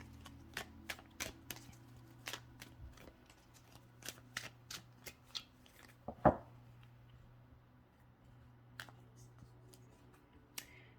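Oracle cards are handled and shuffled in sparse, sharp flicks and taps, quiet and close, over a low steady background hum, with a few scattered clicks and no talk.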